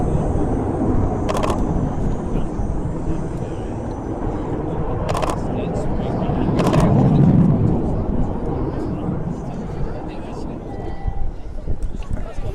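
The Avro Vulcan XH558 delta-wing jet bomber roars steadily overhead during a Farnborough air show display. Its engine rumble swells and fades over a broad noisy wash, with a few sharp clicks from nearby.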